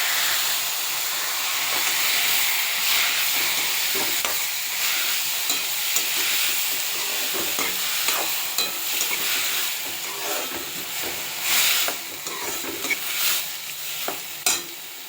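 Sliced cucumber sizzles in a pan with a constant frying hiss, broken by repeated stirring scrapes and taps of a spatula.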